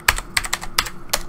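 Typing on a computer keyboard, a run of crisp, close key clicks in uneven bursts, clear and alone with no voice.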